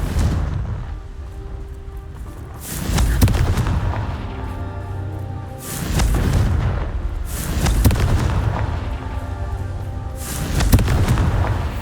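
Confringo blasting spells explode in the Hogwarts Legacy video game, with four or five heavy booming blasts roughly every two to three seconds over a continuous rumbling game backdrop.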